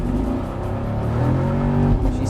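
A 2017 Chevrolet Camaro SS launches hard from a standstill, its V8 engine roaring loud and close with rising revs, heard from inside the car while people talk over it.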